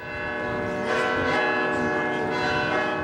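Church bells ring from the bell tower of Saint John Cantius, sustained resonant tones swelling and overlapping as a couple of strikes sound in succession, fairly loud and unaccompanied by talk.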